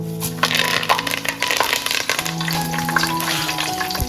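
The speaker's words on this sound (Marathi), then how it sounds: "तर आपला तेल छान प्रकारे गरम झाला आहे त्याच्यात जिरा तेजपत्ता आणि कढीपत्ता घातला आहे" Cumin seeds, bay leaf and curry leaves frying in hot oil for a spiced curry, a close, busy crackle and sizzle with rapid popping throughout, alongside a faint steady background tone.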